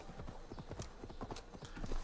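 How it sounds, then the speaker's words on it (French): A lynx in a video game gives off horse-hoof clip-clop footsteps, a steady, quick run of soft clopping beats at moderate distance with faint ambient noise behind. "c'est un lynx qui fait des bruits de sabots de chevaux"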